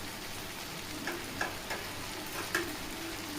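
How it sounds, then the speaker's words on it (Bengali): Taro pieces frying in spices in a pan, a soft continuous sizzle broken by a few distinct spoon scrapes and taps at spaced intervals. "কচুটা কষিয়ে নেব নিয়ে তারপরে বেগুন দিয়ে দেবো এখানে"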